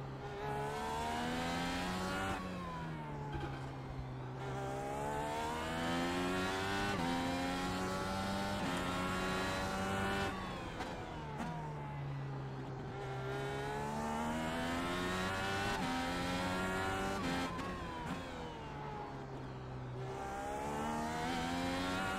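An IndyCar race car screams through the gears around the Long Beach street circuit, its engine pitch climbing and dropping repeatedly with loud, close revving and shifts.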